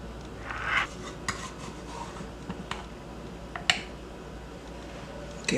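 A knife slices through a homemade pumpkin pie, giving a few soft scrapes and light taps against the dish and metal, close and quiet, with no talking.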